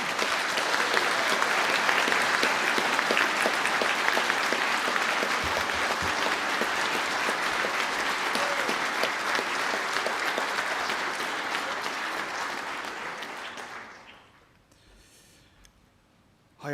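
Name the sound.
audience applause at graduation ceremony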